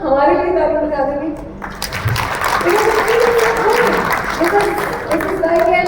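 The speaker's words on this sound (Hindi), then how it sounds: "तो एक बार आप सब हमारे लिए ताली बजा देंगे." Audience applause at a Vivo phone community launch event, a broad steady wash of clapping that swells after a spoken announcement and continues under an amplified voice talking over it.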